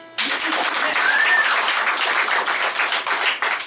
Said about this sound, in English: A round of applause for Treat Me Like This, Act Like a Bitch.